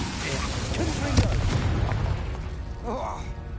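Confringo explosive spell cast in Hogwarts Legacy, a heavy booming blast with rumbling debris and crackle, followed by a fainter magical whoosh near the end, with game voices underneath.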